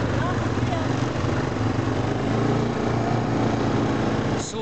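A quad bike engine on a jungle tour in Rarotonga drones steadily and close throughout, a continuous buzzy motor sound with no pauses, with voices faintly audible over it.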